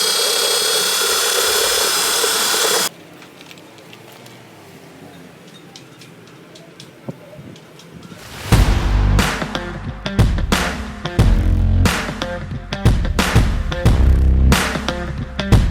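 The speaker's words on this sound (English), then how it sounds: "I'm gonna drill here with a mixer." A power drill with a mixer paddle stirs two-part primer for a boat bottom job, starting in after a high whine cuts out and a quiet stretch, then whirring loudly and unevenly with rapid clattering bursts.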